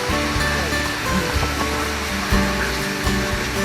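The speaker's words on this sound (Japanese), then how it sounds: "七曲滝です。" Nanamagari waterfall at Arima in winter, partly frozen into an ice fall with water still running down the middle, a steady close roar of falling water with no other sounds.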